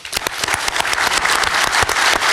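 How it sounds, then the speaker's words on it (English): Audience applause for the speakers at a sustainability business conference, a steady burst of many hands clapping close and loud, filling the whole moment without voices. "A round of applause to our wonderful speakers, our organizers"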